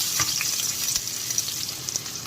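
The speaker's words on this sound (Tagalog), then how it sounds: "So, ilagay ko na yung aking sibuyas. Haluin lang natin." Onions fry with browned garlic in a hot pan, a close, busy sizzle broken by scraping stir strokes, with no voices over it.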